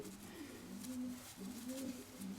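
A single cheerful domestic pigeon, a show bird, coos in soft repeated low rolling phrases, close by and alone in a quiet room.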